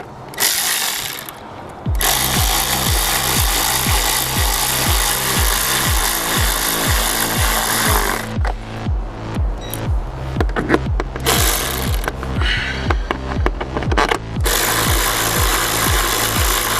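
Bolts are refitted on an Alfa Romeo 145 door card with a hand tool, giving close, steady rhythmic clicking and rasping in two long runs with a short break between them.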